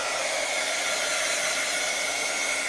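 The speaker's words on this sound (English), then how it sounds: "let's put the heat gun to it and dry it just so that I can show you the back of it quicker" A heat gun blows a steady, loud, unbroken broadband roar while it dries acrylic paint on a Bible journaling page, and the tone holds constant from start to finish with no voices.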